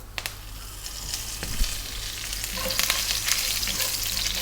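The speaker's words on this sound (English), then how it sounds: "we're going to go in with the curry leaves, which can be very noisy." Loud crackling and spitting as curry leaves hit hot oil, a dense sizzle that swells and pops throughout with no talking.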